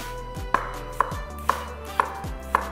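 A knife slices through a yellow onion on a cutting board in five evenly spaced, crisp chops, each a sharp knock about half a second apart. Close and clear, with no talking.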